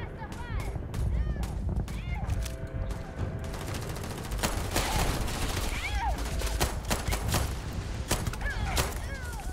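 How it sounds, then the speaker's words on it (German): Rapid gunfire crackles in the sci-fi game Starfield, repeated bursts and single shots rattling through a dense combat mix, loud and close with sharp transients across the whole stretch. "Hört auf mich schießen."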